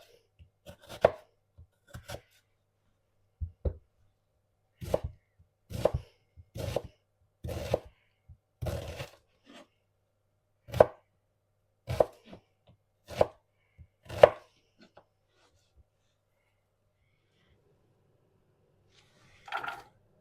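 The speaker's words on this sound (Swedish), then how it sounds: "Så vi börjar med att hacka löken." A knife chops onion on a cutting board in a home kitchen, crisp sharp thuds in irregular clusters with pauses between, close and clear against near silence, ending with a lone chop.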